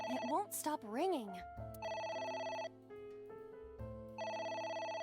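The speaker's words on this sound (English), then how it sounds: "It won't stop ringing." A telephone rings insistently in the AI: The Somnium Files video game, repeated electronic bell bursts separated by short pauses, loud and close, with speech and a warbling tone at the start.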